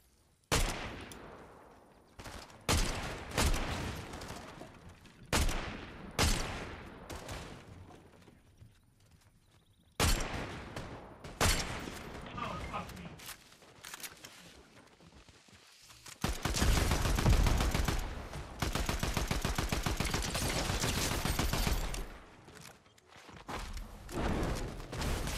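Bursts of gunfire from a Fortnite match, with rapid rattling volleys and single shots broken by short pauses, building to a long, loud sustained stretch of fire near the end.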